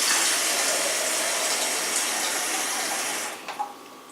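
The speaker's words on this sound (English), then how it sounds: "I'm just going to use some simple tap water, perfectly fine." Water from a kitchen tap gushes steadily and loudly into a sink, then is shut off near the end, leaving a few drips and faint clinks.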